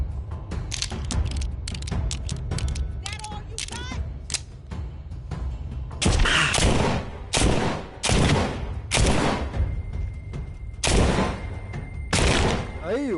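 Gunfire from an X-Men weapon in a Walking Dead shooter game comes in clusters of loud, sharp shots with short gaps between bursts. Talk and other game noise sit underneath.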